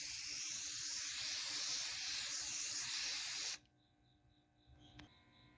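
Wood finish sprays from an aerosol can onto pallet wood in one continuous loud hiss lasting a few seconds, then stops abruptly, leaving a faint quiet room with a brief thin tone.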